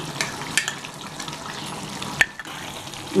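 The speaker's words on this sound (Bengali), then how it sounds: "গরম মশলা বাটার দিয়ে আমি একটু নাড়িয়ে নিচ্ছি আবার ভালো করে।" Soya chilli with garam masala and butter stirred in a pan: soft sizzling and scraping, with a few sharper clinks of the spoon against the pan, close and fairly quiet.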